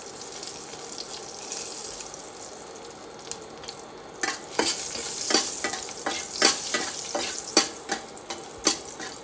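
Dried red chillies fry in hot oil for a tempering, a steady sizzle with crackling that sharpens into bursts of pops and stirring scrapes, loud and close, no voices.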